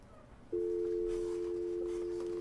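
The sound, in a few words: telephone dial tone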